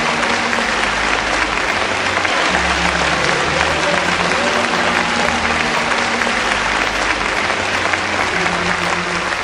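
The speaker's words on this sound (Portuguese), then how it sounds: "Um aplauso para o Senhor." Dense, continuous audience applause fills a ministry school session led by evangelist Morris Cerullo, holding steady and loud throughout with a faint low murmur beneath.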